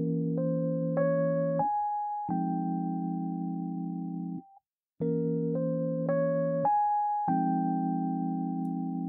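Short jazz line with altered notes resolving to the ninth, played twice in clean synthesized tones: quick rising notes settling onto a held pitch, with a brief pause between the two passes and no voices.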